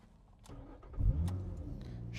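A 2010 Lotus Evora 2+2 with a factory sport muffler cranks and fires up from cold, a short starter whir catching into a low, rumbling idle close by.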